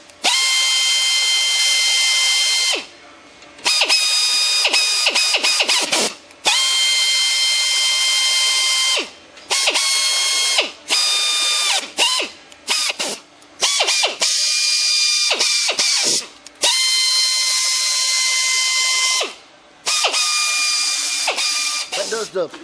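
Threads are tapped into the bolt holes of an engine block, giving a harsh, loud, continuous mechanical grinding whine in repeated bursts separated by short pauses. The sound is close and sounds like a power tool.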